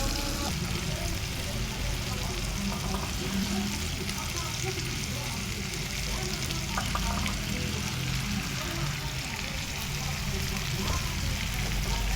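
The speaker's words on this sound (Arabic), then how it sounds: "البنات من بعد ما تقلى شويه ديال اللحيمات انا نزيد لهم البصله" Small chicken pieces sizzle in olive oil in a pot before onion goes in, a dense, even frying hiss that runs unbroken and fairly loud throughout.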